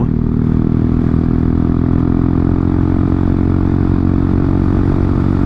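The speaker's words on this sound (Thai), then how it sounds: "เสียงลั่นมากเลยท่อฟู" A Honda Forza 350 scooter with an Akrapovic exhaust idles loudly with a deep, rumbling, throaty exhaust, steady and close by, with no talking.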